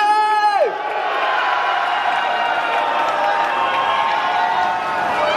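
A concert crowd at a youth festival in Incheon roars and cheers, a steady wall of shouting and whooping that holds for several seconds after a brief amplified voice and a falling tone at the start.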